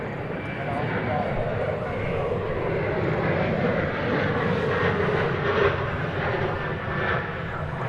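A passenger jet bound for London Heathrow passes over DFW Airport with a loud, steady engine roar that swells slightly and holds throughout, while people talk under it.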